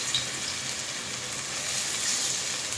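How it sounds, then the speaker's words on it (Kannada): Marinated chicken frying in hot sunflower oil in a pan, a steady, dense close sizzle and crackle throughout with no talking. "ಎಣ್ಣೆ ಹಾಕಿ ಮ್ಯಾರಿನೇಷನ್ ಮಾಡಿದ ಚಿಕನನ್ನು ಫ್ರೈ ಮಾಡ್ತೇನೆ"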